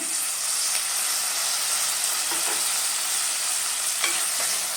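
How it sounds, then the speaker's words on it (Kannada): Chopped tomato fries in hot oil for a Chettinad chicken curry, a loud, steady sizzle heard up close, with a few faint scrapes of stirring and no talking. "ಇದು ಫ್ರೈ ಮಾಡ್ಕೊಬೇಕು"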